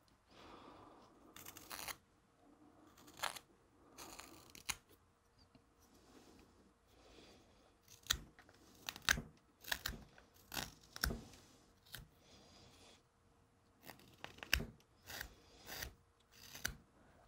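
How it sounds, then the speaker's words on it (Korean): A series of short, sharp scraping cuts as a skew chisel carves the corners of a wooden cat figure, arriving in irregular bursts with quiet pauses between, close and fairly crisp. "스큐로 잡아놓고서 간단한 여기 모서리 정도만 살짝살짝 쳐주면 되겠죠"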